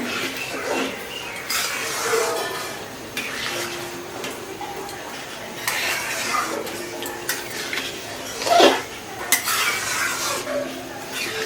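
Gobindobhog rice khichuri with mung and masoor dal, pumpkin and potato cooking in a pot, with spoon scrapes and stirring clinks against the pot over a soft bubbling simmer, a louder clatter near the end; no talking.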